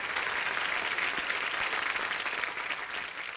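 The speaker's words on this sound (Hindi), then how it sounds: "जोरदार तालियां सबके लिए" Studio audience applauding loudly and steadily on a Hindi television comedy talk show, The Kapil Sharma Show, a dense wash of clapping that holds at even strength throughout with no voices on top.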